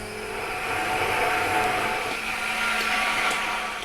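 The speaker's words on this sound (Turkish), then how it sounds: "El blenderınız varsa onunla pürüzsüz bir hale getirmeniz lazım." Steady high whirring of a hand blender mixing crepe batter for chicken crepes, a continuous motor drone holding level for a few seconds with no talk.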